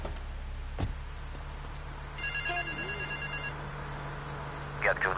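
A telephone rings in a video game scene, a short electronic ring burst in the middle of the clip, moderately loud over a low background hum with brief other game sounds around it.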